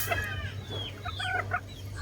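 A yellow-legged hatch gamefowl hen clucks in short, repeated bursts over a low, steady background hum, with no voices.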